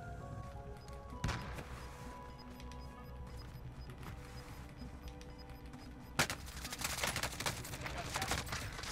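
Gunfire in the game Warzone, a run of sharp shots and rapid bursts over in-game ambience, growing denser and louder toward the end.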